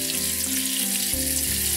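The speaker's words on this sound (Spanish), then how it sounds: "Pues mismo proceso, lo frío por los dos lados" Anchovies (boquerones) fry in hot oil, a steady close sizzle crackling evenly throughout, with a couple of soft shifts as pieces are moved in the pan.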